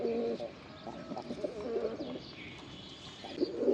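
Male red dobaj pigeon cooing in a loft, a close, repeated low throaty coo with soft bird calls and faint chirps around it.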